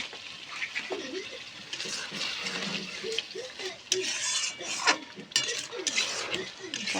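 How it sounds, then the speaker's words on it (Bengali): A spatula stirs spice masala with tomato sauce in a pan for an egg curry, with irregular scraping and clinking strokes, close and fairly quiet, under faint background voices. "ভালো করে মশলাটা কষিয়ে নেব, যাতে টমেটো সসের গন্ধটা চলে যায়"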